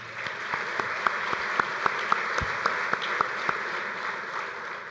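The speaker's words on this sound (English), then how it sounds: "Please give them a round of applause." Applause from a bowling convention audience at an annual meeting, steady clapping with a few sharper individual claps standing out, fairly close and continuous throughout.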